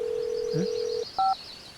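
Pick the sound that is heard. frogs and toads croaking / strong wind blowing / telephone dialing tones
telephone dialing tones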